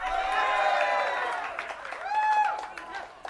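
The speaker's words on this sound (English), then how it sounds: "Applaud if you think it's B, Cantinflas." Studio audience applauding and cheering in response to a trivia question, a dense steady wash of clapping and crowd noise, with voices and raised tones mixed in.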